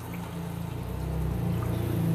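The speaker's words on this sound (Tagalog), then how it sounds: "Lagyan natin ng 1/2 cup na tubig." Half a cup of water poured into a pan during home cooking of boneless bangus (milkfish) steak with kalamansi and pepper, a steady close liquid pour with low rumble, no voices.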